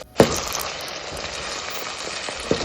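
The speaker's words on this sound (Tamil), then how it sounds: "பீஸ் புலாவ் செய்கிறதுக்கு தக்காளியை இதில் சேர்த்துட்டேன் தக்காளி நல்லா வதங்கட்டும்" Tomatoes sautéing in a pan for peas pulao give a steady sizzle and crackle throughout, with a sharp clink of utensil against pan near the start and another toward the end, close and fairly loud with no talking.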